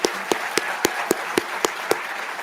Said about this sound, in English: let's give one more big round of applause to everybody